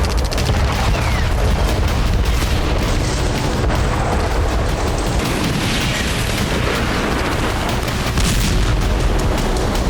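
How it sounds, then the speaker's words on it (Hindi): Continuous dense rumble with repeated booms and crackling bursts, a barrage of wartime explosions in Crimea, loud throughout with no talking. "इसके बाद क्रीमिया के अलग अलग इलाकों में धमाके सुने गए।"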